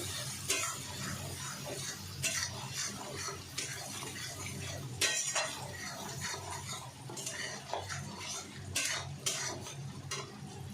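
Spice masala with ginger, slit green chillies and turmeric being stirred and fried, soft sizzling beneath frequent clinks and scrapes of a metal spoon on the pan, close and fairly quiet, no talk.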